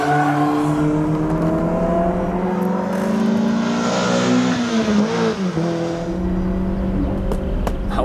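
A Honda Prelude or BMW M440i coupe accelerates hard on a race track, its engine droning loud and close, climbing steadily in pitch, dipping briefly at a gear change, then pulling again.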